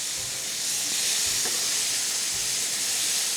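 Mushrooms sizzle steadily in a hot pan as they are turned with a spatula, a continuous close hiss with a faint scrape partway through.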